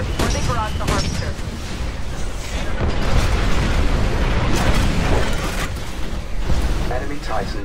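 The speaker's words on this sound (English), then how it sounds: "The harvester is getting barraged by mortar titans." Mortar Titans pound a harvester with a steady barrage in Titanfall's Frontier Defense mode, a dense, continuous roar of overlapping booms and blasts with game voices faintly mixed in.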